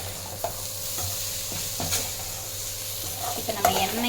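Dried fish fries in oil for karuvadu thokku, a steady soft sizzle with occasional clicks and scrapes of stirring, close and alone.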